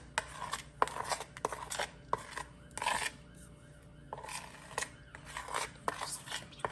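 A spoon scraping cornbread batter from a bowl: a series of close, rasping scrapes in short strokes with brief pauses between them, and a faint high tone underneath.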